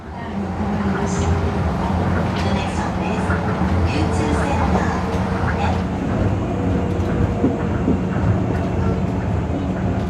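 A train on elevated tracks near Tokyo Bay rumbles along steadily for the whole stretch, with a constant low roar and faint rattling, heard from on board.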